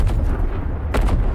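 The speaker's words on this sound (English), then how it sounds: "Oh look, you see that gun shooting?" Two heavy, booming gun blasts from the video game Dawn of War 4, one at the start and another about a second later, loud and close with a rumbling low end.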